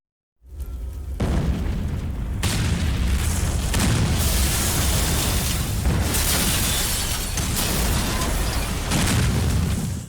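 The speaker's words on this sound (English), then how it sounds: "we explode the street" A street blown up by a detonator in the video game Resident Evil Outbreak: a heavy, loud booming explosion that bursts in after a moment of silence and rumbles on with crashing debris and further blasts.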